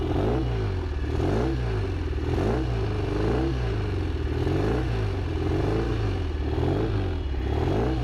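A Norton Commando motorcycle engine idles on choke while warming up, a steady close mechanical chug with a regular, slightly loping rhythm and no talk.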